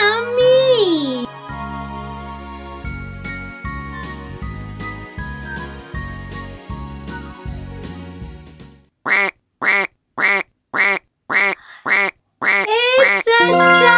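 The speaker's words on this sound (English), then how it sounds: "¡Es un duck! ¡Es un pato! ¡Quack, quack!" A cartoonish duck quacks in a children's farm animal learning song, with musical backing and a voice. Near the end comes a run of short, evenly spaced quacks, loud and up front.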